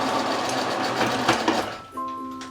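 A sewing machine runs close by, stitching elastic onto bike pants in a steady mechanical whir, then slows and stops toward the end, leaving a brief hum.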